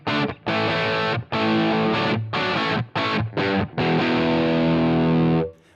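Distorted electric guitar played through a Line 6 Helix stock cab model, loud chugging chords in short bursts with brief gaps, then a long sustained ringing chord that cuts off abruptly, with no voices.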